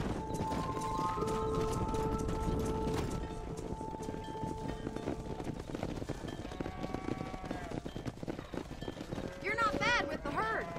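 Horse hooves clip-clop at a steady running rhythm while herding cows in Red Dead Redemption, with a whinny near the end, and someone talks over the hoofbeats throughout.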